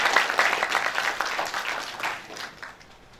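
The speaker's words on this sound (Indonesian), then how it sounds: "Tepuk tangan lagi dong buat Tuhan Yesus" A congregation at a Sunday worship service claps in a short, moderately loud burst that tapers off toward the end.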